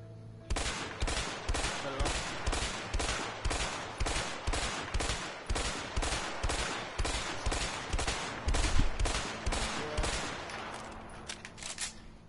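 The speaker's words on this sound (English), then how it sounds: "Ah, the M14. Packs quite a punch from all ranges." An M14 rifle fired in the video game A Way Out: roughly two dozen loud, sharp shots in a steady, rapid rhythm, evenly spaced, with a ringing tail after the last rounds and no talking.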